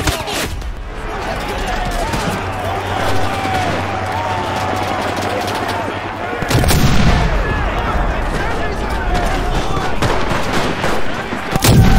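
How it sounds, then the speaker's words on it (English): Bomb explosions and gunfire in the video game Enlisted: a dense barrage of shots and rumbling blasts, with a heavy boom around the middle and another at the end, loud throughout. "Bomber or big boom explosive propellant bomb."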